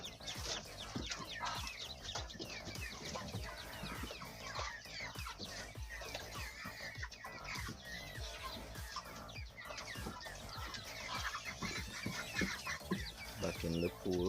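Eleven ducklings cheep and peep continuously in a dense, overlapping chorus, close to the microphone, with a steady busy texture throughout.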